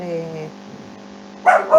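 Dogs bark twice in quick, sharp bursts near the end, heard over an online meeting microphone after a brief stretch of voice.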